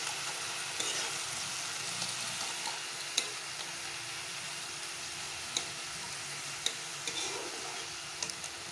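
Boiled lai shak greens fry gently in a pan, a low steady sizzle running throughout with occasional faint clicks of a utensil.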